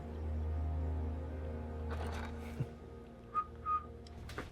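Two brief, faint whistled notes come near the end over a low background hum.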